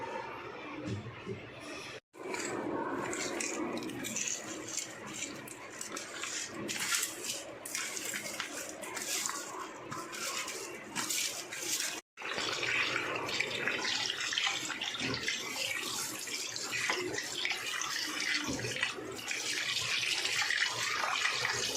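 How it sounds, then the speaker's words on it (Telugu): Fish scrubbed with rock salt under a running kitchen tap: a continuous splashing water stream with handling clatter, briefly interrupted twice, with a voice occasionally heard over it. "ఇప్పుడు నేను చేపలు క్లీన్ చేస్తున్నాను."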